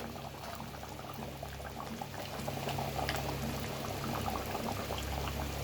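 Fish curry (chepala pulusu) simmers in a pot, giving off a steady, close bubbling and popping that grows slightly louder partway through, with no talking.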